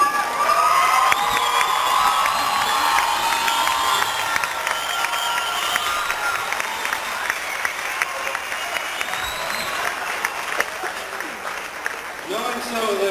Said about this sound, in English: stand so they can give you a round of applause